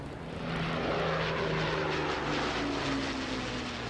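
A steady, loud propeller drone from an Avro Lancaster heavy bomber, a Second World War piston-engined aircraft, flying at an air show, swelling slightly and then holding a rich multi-engine hum with no voices.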